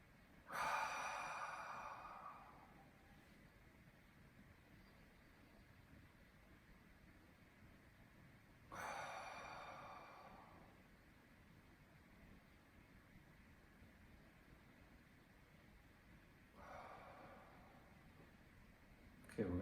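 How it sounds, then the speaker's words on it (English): Three slow, deep breaths drawn in through the nose and blown out through the mouth during a guided meditation, each a soft airy rush a few seconds long, spaced widely apart, close and quiet with silence between. "So we're going to come in through our nose, out through our mouth as we breathe."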